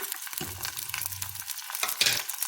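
Garlic, shallots and curry leaves fry in oil while being stirred, making soft crackling sizzle and a few scraping spatula strokes, fairly quiet and close, with no voices.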